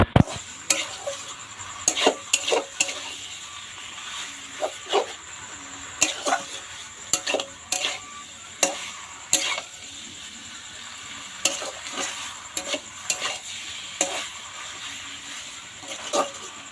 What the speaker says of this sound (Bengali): এবার দেখো নাড়া দিচ্ছি এটা আস্তে আস্তে মজে যাবে